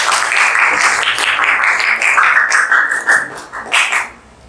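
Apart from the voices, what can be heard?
audience applause after a presentation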